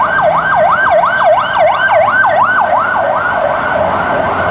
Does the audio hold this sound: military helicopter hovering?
no